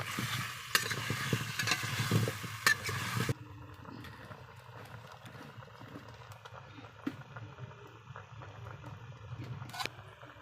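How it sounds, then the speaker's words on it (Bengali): Hog plums dropped into a pan of sizzling, fried-down spiced masala for a hog plum korma, giving a loud frying hiss for about three seconds that then settles into a quieter steady sizzle with faint stirring clicks. "মশলাটা কষানো হয়ে গেছে। এখন আমি দিয়ে দেবো আমড়াগুলো।"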